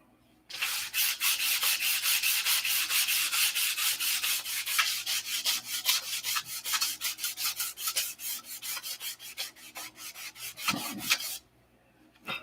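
Steady back-and-forth sanding of airfoil flaps in a hangar, a fast rhythmic rasp of quick regular strokes, close and loud, that slows and stops near the end.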